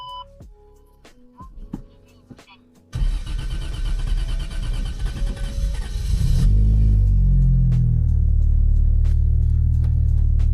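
A Toyota Chaser engine, freshly fitted with a new battery, cranks and catches after a few seconds of quiet clicks, then settles into a loud, steady idle that deepens into a heavier rumble as it runs on.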